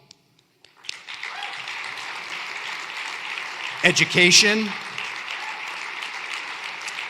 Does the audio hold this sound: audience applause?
yes